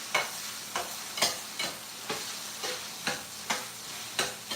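Ground beef fries in a pan with a steady sizzle, broken by regular scraping stirs of a utensil, roughly two per second, close and clear with no talking.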